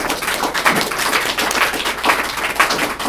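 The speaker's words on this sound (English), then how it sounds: "I would just like to close with a grateful round of applause for both of these gentlemen" An audience at a 2019 Westmoreland County candidate forum claps in a short burst of applause, a dense patter of many hands that stays loud and steady from start to finish.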